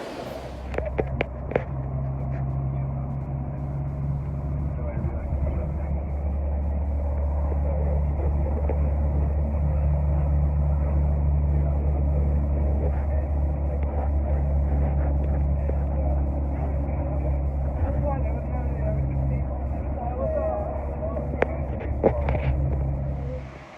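Bus ride from Bogota to Salento in Colombia, a steady low engine rumble and road drone throughout with occasional rattles and bumps, no talk.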